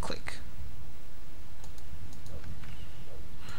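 Sharp clicks from a computer mouse being left-clicked during a vampire-themed game, a few scattered close taps over a steady background hum.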